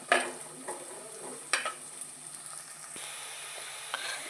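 Curry leaves and slit green chillies sizzle in hot oil while a fish curry is being made, a close, steady frying hiss broken by a few sharp crackles and stirring knocks.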